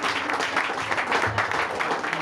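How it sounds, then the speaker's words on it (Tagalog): A church congregation at a Sunday service claps together, a short burst of dense, fairly loud applause lasting a couple of seconds. "Malakas na palakpak para sa atin"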